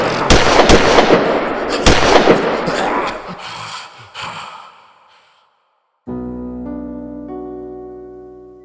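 Police gunfire in an audio drama, a rapid volley of loud close shots and bursts echoing for several seconds, fading out before a sustained low musical drone rises.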